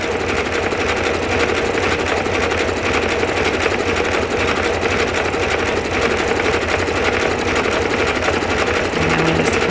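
Sewing machine with an overlocking foot stitching a cotton baby bandana bib, a fast, continuous, even mechanical whir running loud and close without pause.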